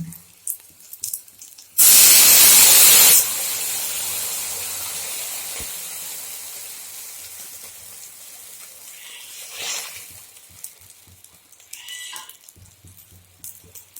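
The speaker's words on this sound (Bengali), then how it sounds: "রসুন আর কাঁচা লঙ্কাটা আমার ভাজা হয়ে গেছে এইবার আমি দিয়ে দেব জল" A sudden loud hiss and spray as water hits a hot pan of fried garlic and green chillies, lasting about a second, then fading into a quieter steaming sizzle with occasional clinks.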